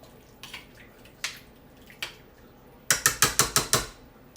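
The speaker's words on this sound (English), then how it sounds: "And we just stir this up good." A spoon stirs turkey chili in a pot, scraping and clinking against the metal in a few scattered strokes, then a quick run of six sharp, evenly spaced clacks close by, with no voices.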